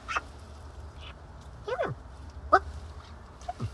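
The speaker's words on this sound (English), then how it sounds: "at least now we know all the noises that a confused, slightly angry magpie make" A confused, slightly angry magpie calls indoors with several short, harsh squawks and chattering notes spaced across a few seconds over a low background hum.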